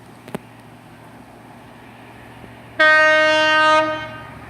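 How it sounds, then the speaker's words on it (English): HST passenger train from Paignton to London Paddington passing through Highbridge and Burnham station, announced by a loud, sustained two-tone horn blast of about a second, over quiet station ambience with a faint earlier thump. "the next service to pass through is a service from Paignton to London Paddington, formed of a"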